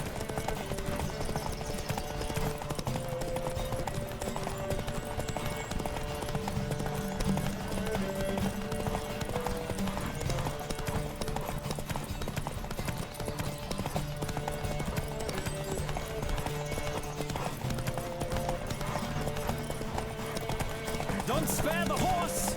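A horse gallops in The Witcher 3 video game, its hooves clip-clopping in a steady, unbroken rhythm for the whole stretch, set against a constant musical score.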